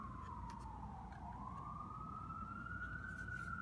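A distant siren wails steadily, its tone dipping and then slowly rising over a low background rumble.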